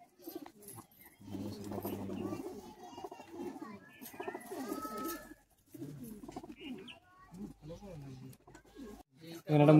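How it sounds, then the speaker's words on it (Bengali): Caged pigeons, Kolkata high-flying Madrasi birds with clipped wings, coo in soft repeated bursts close by, mixed with chirps while someone talks over them throughout. "এই সব পায়রা সেলের মধ্যে আছে।"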